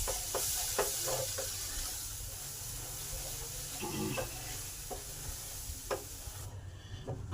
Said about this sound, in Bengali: এবার পটল বাটাটা আছে সেটা দিয়ে দিলাম। এটাকে শুকনো শুকনো করে কষে নেব।